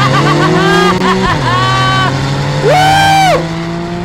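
Porsche 911 Carrera driven hard with stability control off, its engine revving and building loudly near the listener with rising, falling gear pulls, a brief excited shout over the roar.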